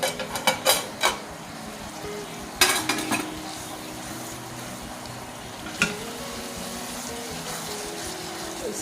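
Poppy seed gravy frying in ghee gives a steady low sizzle, with several sharp spoon scrapes and taps near the start and a few more scattered later.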